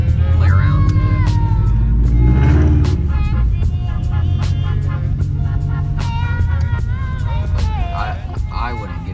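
A Toyota 86 / Subaru BRZ with a freshly tuned ECU cruises along, its steady low engine rumble droning under nearly continuous conversation inside the cabin.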